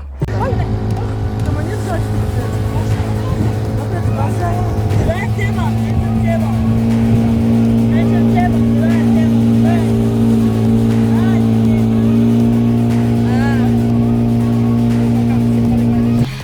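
Motorboat ride on the river near Manaus in the Amazon, a loud steady engine drone running throughout with a constant pitch, and a voice faintly audible beneath it.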